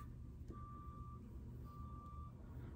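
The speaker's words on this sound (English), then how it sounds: "I apologize for the beeping. Somebody's having some work done out front." Faint, steady reversing beeps from a big truck doing roadwork out on the street, two long evenly spaced tones over a low rumble of traffic, distant and alone with no talking.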